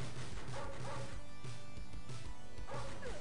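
Dogs bark repeatedly in short bursts amid game-like clatter and thumps, the barking coming in irregular clusters against a busy background, in the video game NARC.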